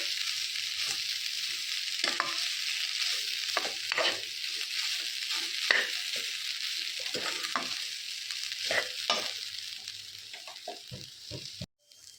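Onions fry in a pan for a Mangalorean pathrode dish, a soft, continuous sizzle broken by frequent scraping and clinking stirs, fairly quiet with no voices.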